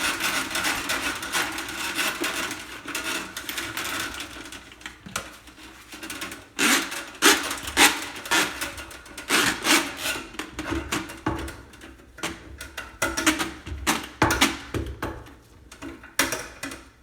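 Drill spinning a drain snake wheel to clear a clogged drain pipe, giving a scraping, rubbing rattle that comes in uneven bursts and pauses, close and fairly loud, with no talking.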